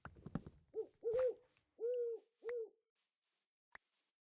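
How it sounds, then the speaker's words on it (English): A cartoonish owl in a video game hoots four times in a steady rhythm, each hoot clear and close. A few short clicks and game effects sound around the calls. "Why is this owl following this bee around?"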